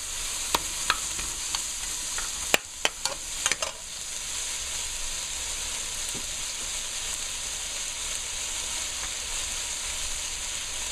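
Soup ingredients seasoned with black pepper fry in a pan for a Multani soup, a steady close sizzle with a few sharp spoon scrapes and knocks early on, then an even hiss.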